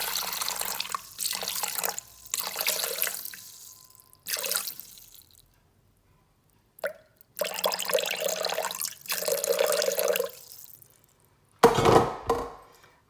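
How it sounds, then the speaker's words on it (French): 400 g of water is poured into a Thermomix bowl for a carrot purée, running in a few steady, close streams broken by short pauses, ending with a louder splashing burst. "Donc je mets mes 400 g d'eau."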